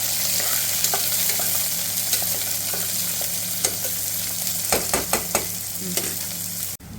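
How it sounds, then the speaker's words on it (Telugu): Onions, chillies and carrots fry in hot oil with a loud, steady sizzle, broken by several sharp stirring scrapes toward the end. "మనం మంచిగా ఆయిల్లో ఫ్రై చేస్తాం"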